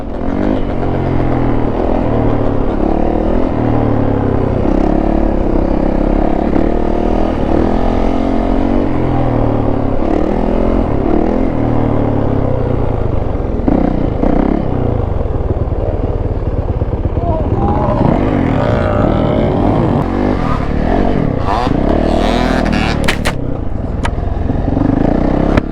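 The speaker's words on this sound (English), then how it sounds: "Two-stroke wheelie action" A two-stroke dirt bike revving hard through wheelies, its engine droning steadily with rising and falling pitch throughout, loud and close, with voices faint underneath.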